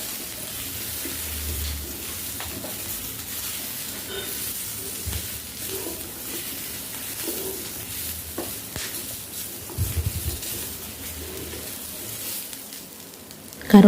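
Tamarind being stirred in a frying pan gives a soft, continuous sizzle with occasional muffled stirring scrapes. The sound stays fairly faint and steady, with a brief louder clatter at the end.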